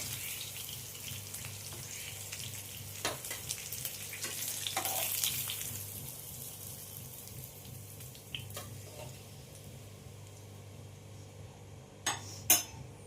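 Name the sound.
surmai fish frying in oil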